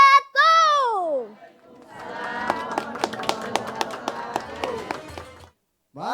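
An audience applauding after a child's sermon at a young preachers' competition final. The applause is a dense run of claps that follows a shout and then stops abruptly.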